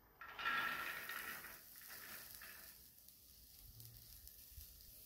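Okra seeds roasting in a pan give a soft sizzle and dry rattling crackle, louder at first and then fading to a faint scratchy background.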